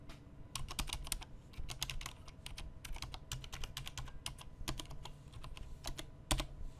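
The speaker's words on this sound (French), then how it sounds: "voici un petit ASMR de ce clavier" Rapid, uneven clacking of mechanical keyboard keys with red switches being typed on, close up, with a steady low hum underneath.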